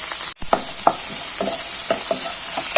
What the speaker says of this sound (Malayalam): ചെറിയ ഉള്ളി ഇട്ട് ഒന്ന് വഴറ്റിയത്